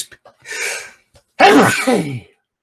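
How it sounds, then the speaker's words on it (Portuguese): A single sneeze: a short breathy intake followed by a sharp, loud burst, close and alone with no talk. "Ah, você viu como é que espirra, né?"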